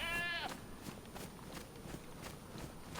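A goat in the DayZ video game gives one short, bright bleat at the start, nearby and fairly loud, followed by soft footsteps and faint ambient rustling.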